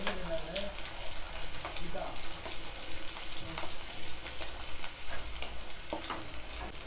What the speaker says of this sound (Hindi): तेल गरम हो चुका है तो सबसे पहले हम इसमें डालेंगे अदरक लहसुन और मिर्च